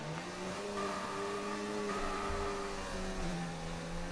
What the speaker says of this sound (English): I've noticed that all the drivers are revving the engine as soon as they leave the corner.